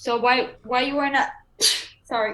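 A single sharp sneeze bursts out between stretches of people talking nearby, loud and brief.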